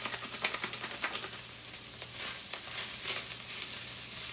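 Ground hamburger meat with taco seasoning frying in a pan, a steady close sizzle with soft crackles and occasional stirring scrapes, no voices.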